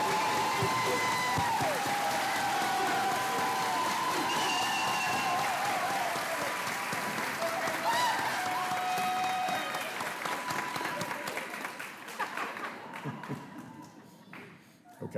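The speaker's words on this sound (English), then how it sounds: "All right, folks, now you can give them a big round of applause." A crowd gives sustained applause for nursing graduates at the Calhoun Community College pinning and candle-lighting ceremony: loud, dense clapping with a few cheers, fading and thinning out over the last few seconds.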